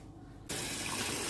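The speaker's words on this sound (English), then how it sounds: "put a little bit of water there" Water suddenly starts gushing into a container with a steady, close splashing rush after a brief quiet moment, as if from a tap.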